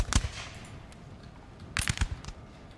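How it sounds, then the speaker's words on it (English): Musket volleys and cannon fire from a Napoleonic-era Total War 3 multiplayer battle: a sharp burst of shots at the start, a quieter rumbling stretch, then a cluster of several loud cracks near the end. "I will let you enjoy the cinematic smoke and gunfire."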